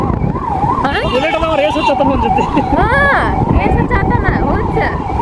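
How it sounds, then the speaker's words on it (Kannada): An ambulance siren wails loudly and close by, its pitch rising and falling in repeated cycles, with traffic noise and voices mixed underneath. "ಆಂಬುಲೆನ್ಸ್ ಅಷ್ಟು ಬಡ್ಕೊಳತೈತಿ"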